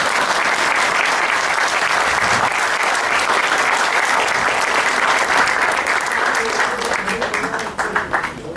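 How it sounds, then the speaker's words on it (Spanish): Audience at a human rights forum in Mexico breaks into loud, sustained applause that holds steady and then begins to thin out near the end. "Pues un aplauso para este señor"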